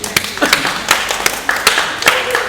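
A small group of people clap in an irregular rhythm, sharp close claps for about two and a half seconds with no talking.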